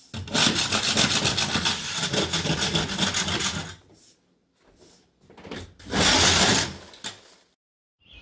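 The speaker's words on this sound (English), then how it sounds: "after I scrape all this down, we'll put the skim coat on" A textured ceiling is scraped down with a steady, rough, rasping scrape lasting several seconds, then a pause, a few softer scrapes and a second loud stroke close by.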